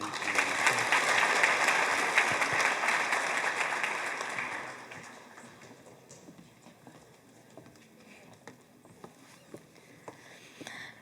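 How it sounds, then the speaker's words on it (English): Audience applause fills the hall at a superintendent's honors night, dense and loud for several seconds, then thinning into scattered claps that trail off. "let's give it all applause for Mr."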